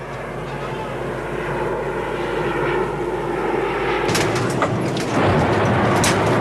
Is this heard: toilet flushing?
no